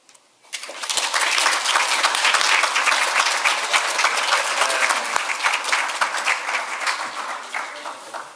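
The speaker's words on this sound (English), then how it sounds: "Give yourselves all a round of applause." A room full of people applauding after a physical therapy session at Walsh University bursts in suddenly and stays loud and dense, then eases off slightly toward the end.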